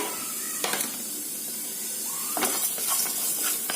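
Garlic dry-roasts in a hot pan with no oil, giving off a steady, faint sizzle and hiss. A few sharper crackles and stirring scrapes break through.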